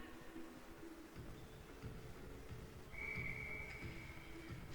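A referee's whistle sounds once, a short sustained tone partway through, at an indoor national ball hockey tournament game, heard over a faint, steady arena background.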